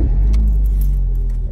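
Keys jangle briefly over a steady low car engine rumble as a car is started and running, close and continuous, with no talking.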